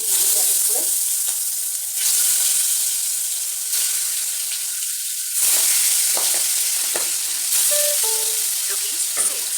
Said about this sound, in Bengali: মাছগুলো ভাজা করতে বসিয়ে দিয়েছি